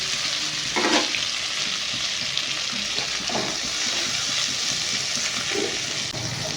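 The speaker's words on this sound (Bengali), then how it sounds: "এতে চিংড়ি মাছ তো ভাজতে বেশি সময় লাগে না, ভাজা হয়ে গেছে" Prawns frying in hot oil in a wok, a continuous close sizzle and crackle with a few brief stirring scrapes, no voices.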